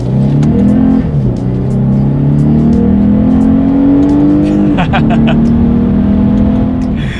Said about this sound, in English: let's go ahead and test out the acceleration along with the paddle shifters, and we'll see how quickly we can get this naturally aspirated V6 up to speed